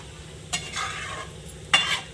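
Lentil fritters simmer in curry with green chillies in a pan, gently stirred on low flame: two soft scraping strokes of a spoon against the pan, faint and close.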